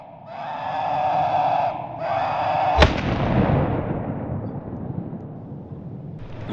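A single sharp rifle shot rings out, finishing off a wounded wild boar during a driven hunt, with a long rolling echo that decays over several seconds after a steady background hiss.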